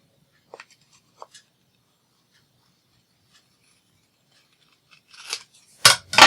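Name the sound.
scissors trimming lace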